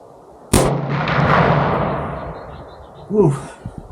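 A single loud, close gunshot from a Bear Creek Arsenal rifle in .450 Bushmaster, a sharp heavy thump at an outdoor range followed by a long rumbling decay, with a brief voice exclamation near the end.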